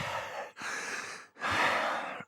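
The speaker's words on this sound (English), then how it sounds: "That's just a lot of breathing." Heavy, close breathing captured on a newly bought microphone, three long loud breathy bursts separated by brief pauses, with no speech.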